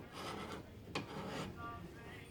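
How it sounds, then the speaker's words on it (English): Wood turning on a lathe with the tool bevel riding inside a bowl cove, a continuous close rasping scrape with a brief sharper bite in the middle, steady and fairly loud throughout. "we're gonna put the bevel right inside the cove, right here, and we're gonna start turning"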